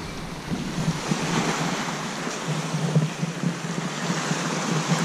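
Lake Ontario waves at Presqu'ile Provincial Park wash steadily against the shoreline, a continuous rushing wash with wind buffeting the microphone, fairly close and with no voices.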